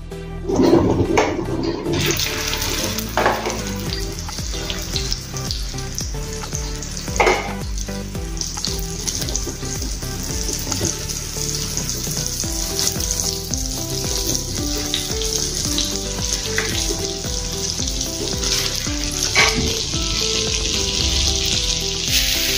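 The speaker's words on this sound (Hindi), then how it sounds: "अभी इसको हम सैलो फ्राई करेंगे। तेल अच्छे से गर्म हो गया है।" Mung dal tikkis shallow-fry in hot oil, a loud continuous sizzle and crackle close by that holds steady throughout, with a few brief pan scrapes and no speech.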